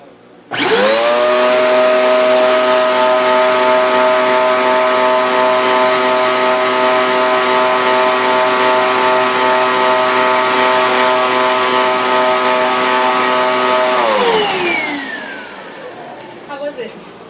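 A Eureka Airspeed Ultra vacuum cleaner with its brush attachment runs loud and steady with a strong motor whine for about thirteen seconds, then its pitch drops as it spins down to quiet.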